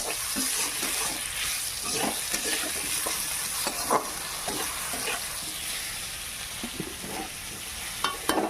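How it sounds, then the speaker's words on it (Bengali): Potato pieces fry in hot oil with black cumin seeds, giving a steady sizzle broken by the scrape and clatter of stirring. "এবার আলুগুলো একটু তারপর ভেজে নেবো লাল লাল করে"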